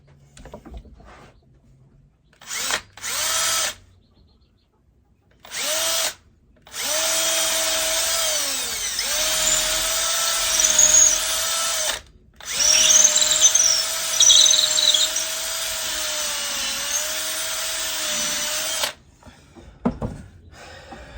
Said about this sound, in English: Go ahead and drill this other one.